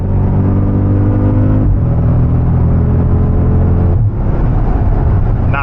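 A Jeep SRT accelerating with a deep, loud engine and exhaust drone heard from inside, revs rising then dropping at two gear shifts before climbing again.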